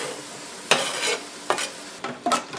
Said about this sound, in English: And I also throw in the onions.